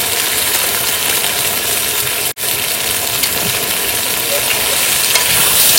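Salt, turmeric and ground cumin being stir-fried in a pan as the base for a crab curry, with a strong, continuous sizzle, a brief sharp break in the middle, and nobody speaking.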